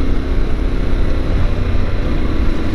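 Yamaha Tenere 700 motorcycle riding on a gravel road, its engine a steady, loud low rumble blended with wind buffeting and the crunch of tires on loose gravel, continuous throughout.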